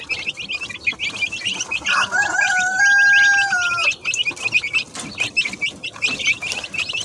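Many chicks peep continuously in rapid high chirps, close and busy, with a louder hen-like call rising briefly in the middle.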